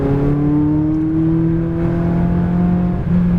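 A McLaren 570 sports car accelerates on a track, its engine note rising steadily and loud, with a brief dip as it shifts near the end.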